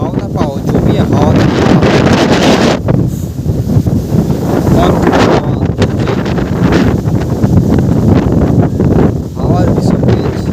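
Strong riverside wind in the Haldia dock township buffets the microphone in loud, roaring gusts. The rumble is nearly constant, with brief lulls between heavier blasts.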